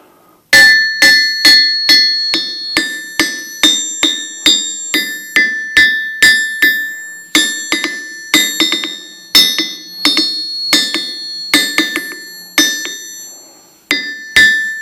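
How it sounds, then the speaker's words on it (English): Hammer strikes on a restored anvil, each blow ringing bright and bell-like and followed by quick bounces, repeated at a steady rhythm about two dozen times, close and loud with no talk. "little ring bounce test for the anvil"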